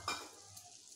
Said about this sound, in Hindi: अब हम इसको चलाते हैं